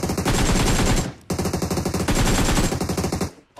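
Loud, dense gunfire in a battle royale video game set around a snowy village, rapid repeated shots in two long bursts separated by a short gap, with no talking.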